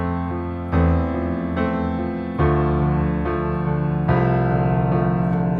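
Piano plays a descending left-hand line walking down the white notes under sustained chords, loud and alone, with each chord change struck every second or so.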